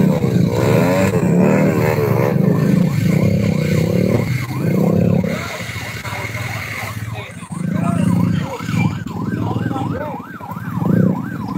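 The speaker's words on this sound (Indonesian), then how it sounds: "Ini motor Bang Iwan pun" A motorcycle engine runs steadily during an evacuation from the Mount Semeru eruption on an ash-covered road, mixed with a wailing siren and nearby voices talking.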